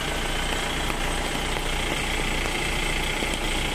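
A special hired bus sits with its engine idling in the rain, a steady close rumble and vibration with no voices.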